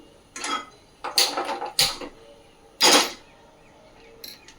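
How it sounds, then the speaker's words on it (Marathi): A gas burner on a kitchen stove is lit: a handful of sharp clicking, rattling bursts, close by and unevenly spaced, then quieter scraping. No one speaks. "गॅस पेटवते."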